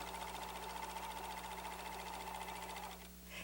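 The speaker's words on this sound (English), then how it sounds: "Just stretch the fabric as you sew it." A Riccar Lock serger, model RL624 or RL613, runs steadily as stretchable fabric is fed and stretched through it, giving a continuous close mechanical whir with a steady hum that drops off near the end.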